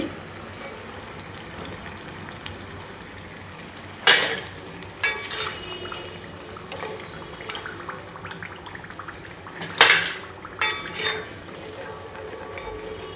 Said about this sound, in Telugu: ఇవి ఇంకొంచెం సేపు వేగాలండి వేగ అయ్యేదాకా వెయిట్ చేద్దాము